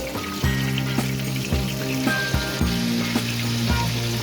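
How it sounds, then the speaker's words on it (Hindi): Palak koftas deep-frying in oil over a medium flame, a continuous close sizzle with bubbling and small pops in an uneven rhythm, plus faint musical tones in the background. "और इसको मीडियम फ्लेम पे हम लोग फ्राई करेंगे। तो ये देखिए यहाँ पे फ्राई हो रहे हैं।"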